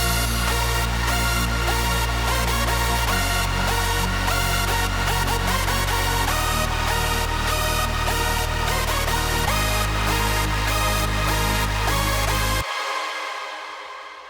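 Hardstyle synth lead test project before clipping: a loud, dense, distorted lead with pulsing rhythmic chops over a heavy sustained bass that steps through four notes, then cuts to a fading tail.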